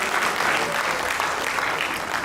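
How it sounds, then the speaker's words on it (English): Dense, steady audience applause at a sickle cell foundation event, filling the whole stretch at an even, fairly loud level with no voices over it. "You should clap for him now."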